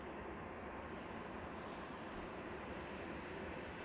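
A TUI Airbus airliner at Manchester Airport on a snowy day, a steady broadband jet roar held at constant level throughout, fairly distant and without talk.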